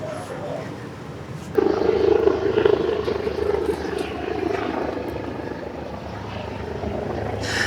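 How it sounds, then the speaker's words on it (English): Distant helicopter rotor thudding over ambient outdoor noise along the Chelsea waterfront in London, swelling louder after a sudden onset and holding steady, no speech. "this noise of helicopter here"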